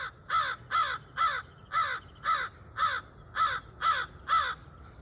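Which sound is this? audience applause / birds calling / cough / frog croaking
birds calling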